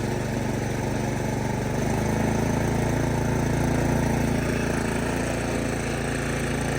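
A Craftsman snow blower engine runs steadily at a constant, dense drone, loud and close, with no talking.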